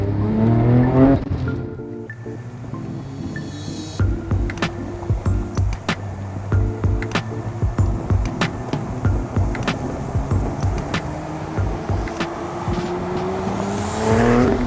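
A Liberty Walk widebody Porsche 911 Turbo drives with loud tire squeals rising and falling, engine revving, and sharp clicks and bangs in between, close and intense for most of the stretch.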